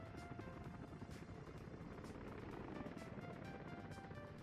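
Helicopter in the Soviet-era city-building game Workers & Resources: Soviet Republic, a steady rotor chop pulsing rhythmically over an engine drone, faint and continuous with no voices.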